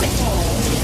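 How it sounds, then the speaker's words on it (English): Heavy rain pours steadily in a dense, loud, continuous wash during a flooding deluge in Washington D.C., with water coming into trains on the Metro. "Rain pouring into trains on the D.C. Metro."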